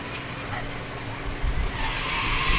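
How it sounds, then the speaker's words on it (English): Tires of a vehicle in an outdoor Christmas parade squeal and scrub briefly as it burns rubber, a rough broadband screech rising over steady engine rumble and crowd ambience, loudest near the middle. "He burned a little rubber there, Vic."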